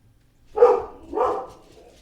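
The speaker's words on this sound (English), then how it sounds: "Sorry about the barking." A dog barks twice in quick succession indoors, two moderately loud woofs about half a second apart, with no talking over them.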